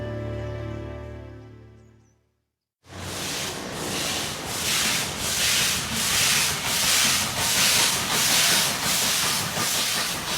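A passenger train, the Pondicherry Special on the Southern Railway south of Madras, rolls past after a brief quiet gap, giving a steady rushing hiss and rumble with regular rhythmic beats from the wheels.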